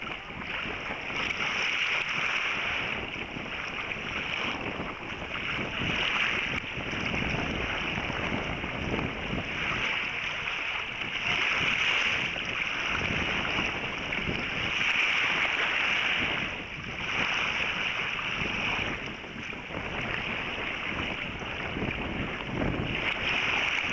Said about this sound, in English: The northeasterly had freshened and we were making good progress under sail.